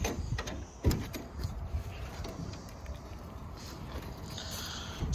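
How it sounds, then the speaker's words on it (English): Bar locks on a Wells Cargo 7x16 enclosed cargo trailer open and swing back with one sharp metallic clunk near the start, followed by quieter rattles and handling noise. "Again, bar locks just open up, swing back."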